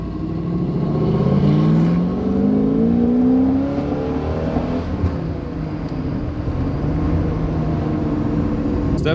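A first-generation Camaro pace car with freshly rejetted carburetors pulls away from a slow roll, its engine rising in a gradual, throaty climb before settling into a steady cruising drone, heard close with no talk.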